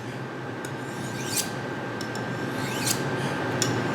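Knife blade drawn along a smooth ceramic honing rod with a light touch, giving several separate bright, hissing scrapes about a second apart over a steady background hum.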